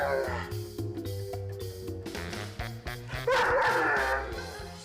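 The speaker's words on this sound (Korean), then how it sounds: "또다시 짖기 시작합니다" A dog barks repeatedly at close range, sharp yips and bow-wows in an uneven rhythm broken by short whimpers, with background music and bits of talk around them.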